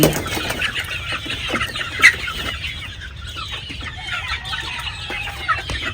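Hatch gray chickens cluck softly and steadily at close range, with occasional wing flaps and one sharper call partway through, under a constant low background hum.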